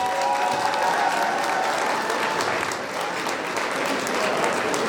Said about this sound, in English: And while the applause continues